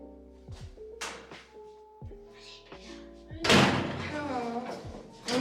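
A door thuds shut indoors amid household bustle, several thumps and knocks scattered across the moment, with people talking and a louder burst of noise midway.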